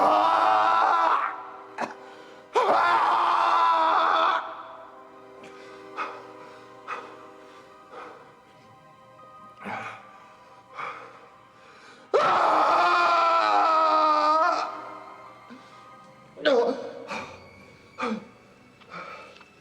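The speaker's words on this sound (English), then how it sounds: "The next thing you know, you're screaming." A person screams repeatedly in a crime thriller, long loud wailing bursts alternating with short groans and grunts, fairly close and with no other voices.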